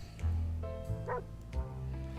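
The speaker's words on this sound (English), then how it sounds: "Oh, it's a puppy." Puppy in 60 Seconds Reatomized giving a few short yips and barks, close and clear with a brief whimper between them.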